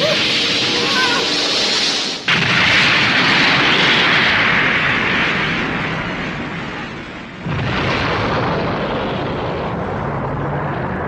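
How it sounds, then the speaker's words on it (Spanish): A loud, roaring energy blast from Dragon Ball Z, Vegeta's Big Bang attack against Android 19, rumbles continuously, surging again partway through as a second wave of explosive noise washes over. "Este ataque se llama la gran explosión de Super Vegeta."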